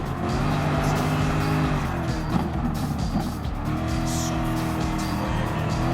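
Gr.3 race cars in Gran Turismo Sport roar steadily through a 24-hour-style Nürburgring race, dense overlapping engine drone with brief tire squeal, loud and continuous without talk.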